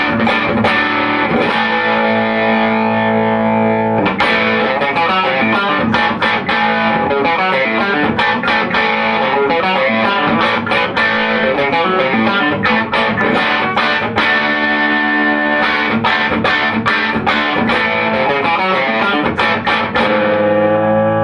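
A Suhr S4 electric guitar plays through an Egnater Tweaker amp on its clean setting with USA tone controls, a continuous passage of picked notes and strummed chords, loud and steady, with no talking.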